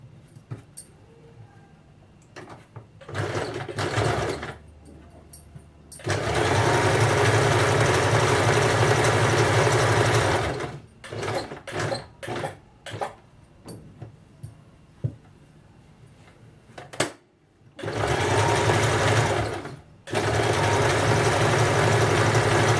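A sewing machine runs double stitches on a salwar, ladies' pants, in loud sustained bursts of motor whir separated by pauses and short stop-start runs.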